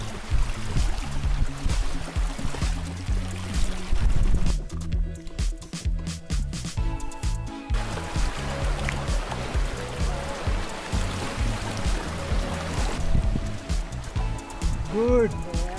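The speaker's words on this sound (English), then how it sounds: "See how our boatman is struggling to push the boat up the rapids." River rapids in the Philippines rush and splash around a boat being pushed upstream, steady churning water with knocks and sloshes close by, while people talk over it.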